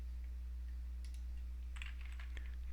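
A search word being typed on a computer keyboard: a short, faint burst of separate clicky keystrokes against a quiet hum, with no talking.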